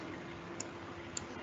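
Two sharp, faint computer mouse clicks about half a second apart over steady background hiss, made while working in Scratch on a computer.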